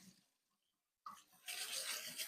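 Tap water running over tomato seeds in a small sieve, a short quiet pause then a sudden splashing rush of water that grows louder and steady.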